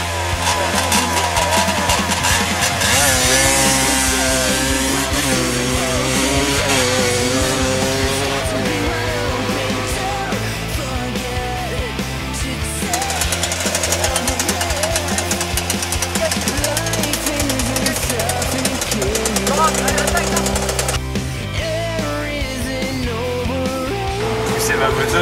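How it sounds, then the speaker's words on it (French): A dirt motorcycle engine running loud and close, with a rough, shifting drone that rises and falls as the throttle changes, continuing throughout with no pause. "C'est ma moto."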